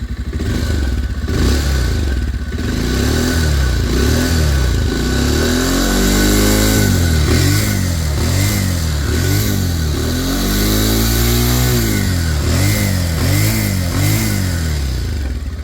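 A 2021 Bajaj Pulsar 180 motorcycle idles loudly up close, then is revved repeatedly in rising and falling sweeps, each throttle blip swelling and dropping back to a steady idle.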